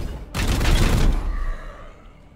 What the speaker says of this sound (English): Opening fire. Bit of support fire.